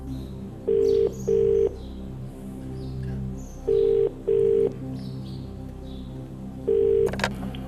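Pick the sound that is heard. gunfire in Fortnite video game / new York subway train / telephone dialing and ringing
telephone dialing and ringing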